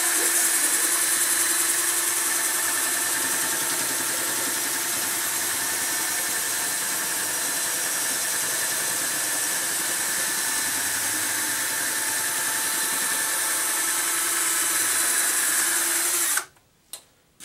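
A power drill runs steadily while reaming out the barrel of a muzzleloader rifle, a loud continuous whine holding for about sixteen seconds before it cuts off abruptly.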